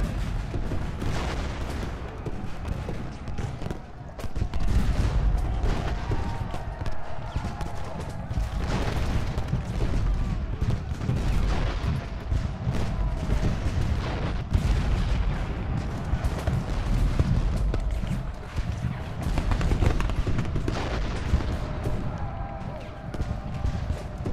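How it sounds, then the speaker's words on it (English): Repeated heavy booms of cannon fire roll on and off in a Civil War battle video game, with crackling gunfire and voices talking throughout. "I hope these cannons can push back Kershaw"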